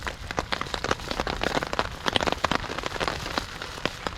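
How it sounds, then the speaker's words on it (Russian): Heavy spring rain pours in a forest, drumming steadily on a tarp over a campfire camp, with dense, irregular close patter of drops and no speech. "О, полил еще сильнее дождь."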